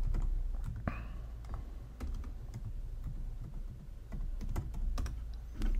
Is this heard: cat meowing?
no